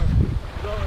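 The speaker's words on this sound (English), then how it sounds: "It's getting windy out here" Gusty wind blows outdoors at a riverside campsite, a close, rough low rumble buffeting the microphone for a brief second with a faint tonal whine over it.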